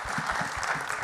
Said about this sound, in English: A huge round of applause for our panelists, everybody.